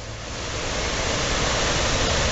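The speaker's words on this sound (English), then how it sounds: "the roar of that big waterfall there" A big waterfall at Mendenhall Glacier in Alaska roars in a steady, dense, loud wash of noise that holds without a break from start to finish.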